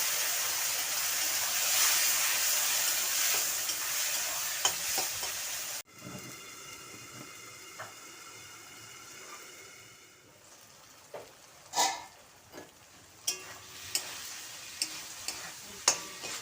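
Masala frying with potato and tomato in hot oil, a steady loud sizzle for several seconds, then quieter bubbling with sharp scrapes and taps of a spoon stirring the pan.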